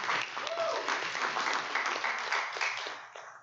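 A bar crowd at a public astronomy talk in Baton Rouge breaks into a warm round of clapping, loud and close at first and gradually tapering off near the end.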